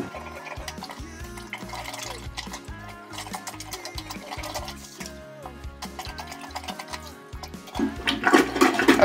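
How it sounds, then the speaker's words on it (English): Water is plunged out of a toilet bowl during a DIY toilet replacement, with a repeated rhythmic plunging and sloshing that grows louder and more splashy toward the end, heard close by. "I'm gonna take inside the toilet here, and I'm gonna plunge all the water down."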